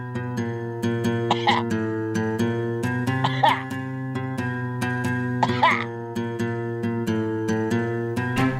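Three short coughs break out at intervals over a steady, droning tonal hum that runs through the whole stretch.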